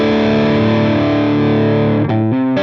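An electric guitar on its neck pickup plays sustained, heavily distorted chords through a Headrush MX5 modeler, ringing loud and steady before shifting to two quick chord changes near the end.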